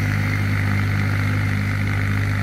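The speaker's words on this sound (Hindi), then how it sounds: "और ये जुताई में आप इसकी परफॉर्मेंस देख सकते हो क्या शानदार चल रहा है।" A 47 HP Ford 3600 tractor engine runs at a steady, loud drone while ploughing a field, with a constant low hum and no break in pace.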